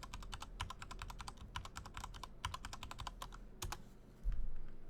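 Rapid, uneven keystrokes on a computer keyboard as a password is entered at a Unix login, close and clear, with a short pause near the end and no talk.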